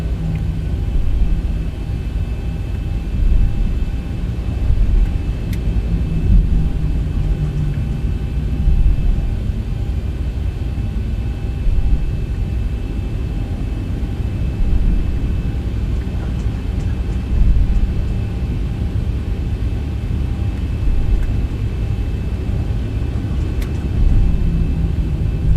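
Low steady engine rumble of a Boeing 737-800 taxiing at night in X-Plane 12, a continuous droning hum with faint cockpit tones, no voices.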